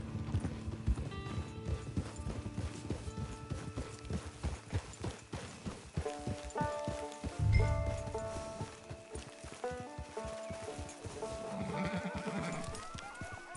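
Horse hooves clip-clop steadily throughout a Red Dead Redemption 2 game scene, a continuous walking rhythm near and moderately loud beneath a music score, with a brief louder thump midway.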